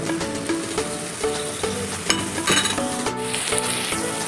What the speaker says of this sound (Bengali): পেঁয়াজটা আমরা এরকম হালকা ভেজে নিলাম